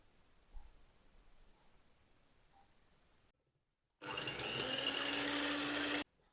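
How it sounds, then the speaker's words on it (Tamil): An electric hand beater whipping egg whites for a tea cake runs steadily and loudly for about two seconds near the end, alone, after a quieter stretch of faint kitchen noise and a brief silence. "நாங்கள் இந்த முட்டை வெள்ளைக்கருவை பீட்டரால் அடித்து கொள்ள போகிறோம்"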